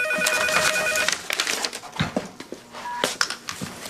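A telephone rings indoors, a few short bright electronic bursts with clicks and handling noise in between, fairly close and loud.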